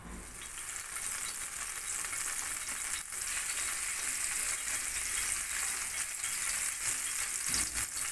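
Three small dried red chillies sizzle as a tempering in about two tablespoons of hot mustard oil, making a steady, loud, close crackling hiss that runs without a break, with no talking.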